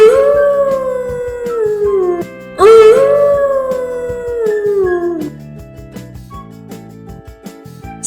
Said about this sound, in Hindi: अचानक दूर से सियारों की आवाज आई।